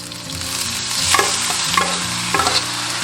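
Rice and radish being stir-fried in a wok with ginger, scallion and dried seafood for Minnan salty rice, a continuous close sizzle broken by scraping spatula strokes.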